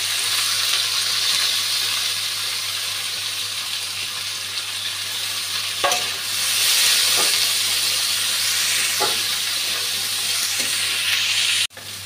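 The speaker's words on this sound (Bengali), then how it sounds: "টমেটো আর পেঁয়াজটা প্রায় ভাজা হয়ে এসছে" Onion, tomato and green chilli fry in a pan with salt, giving a steady, close hiss and sizzle throughout, broken by a few soft clicks and a sharp knock near the end, with no talking.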